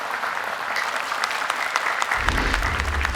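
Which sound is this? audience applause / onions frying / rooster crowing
audience applause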